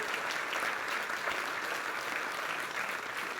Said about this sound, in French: vous méritez d'être applaudis